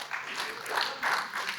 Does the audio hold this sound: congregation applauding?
yes